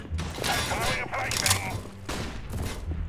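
Galil assault rifle firing in the shooter game CS:GO, heard as bursts of rapid gunfire with mechanical clatter, mixed with loud excited talk from players throughout.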